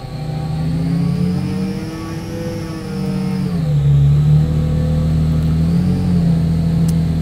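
A car engine held at wide open throttle on a tuning run, a loud steady drone that dips briefly and then settles as the load shifts, heard close with no talking.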